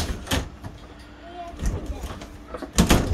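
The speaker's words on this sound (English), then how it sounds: "the door does work now" A bathroom door with a newly replaced handle is opened and closed several times, with latch clicks and knocks that end in a louder thump, under quiet background sound.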